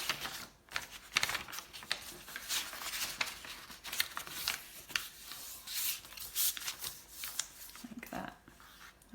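Sheet of paper being folded lengthwise for a zine, giving crisp rustles, creases and scraping rubs close by, intermittent over several seconds with no talk.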